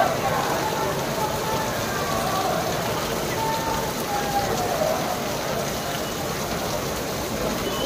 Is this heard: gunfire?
no